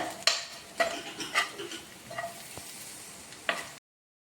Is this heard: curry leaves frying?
yes